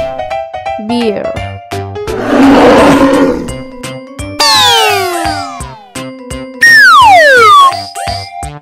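A bear roars in loud, rough bursts over a bouncy synthesized children's music track, with long roars rising and falling between the repeating musical tones.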